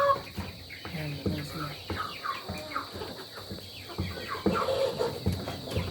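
Three mahogany Rhode Island hens cluck and call close by on a backyard farm, a busy irregular stream of short clucks and squawks with faint background voices mixed in.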